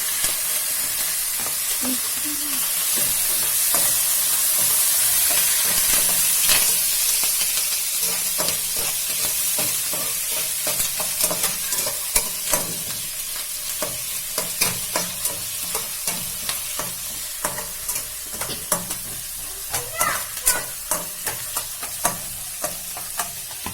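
Green chilies and curry leaves hitting hot oil for upma, a loud close hiss and crackle that settles into a busy sizzle with sharp spitting pops and occasional stirring clicks, no voices.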